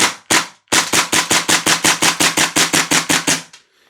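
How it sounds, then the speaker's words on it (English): A Tokyo Marui airsoft pistol (USP or HK45) fires with a suppressor attached: two quick shots, a brief pause, then a rapid, evenly spaced string of about fifteen sharp, close, loud pops. "I prefer the sound of it with the suppressor on."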